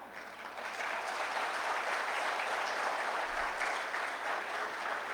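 An audience at an engineering open house and job fair claps steadily, building in the first half second into sustained, fairly loud broadband applause that holds throughout without a voice over it.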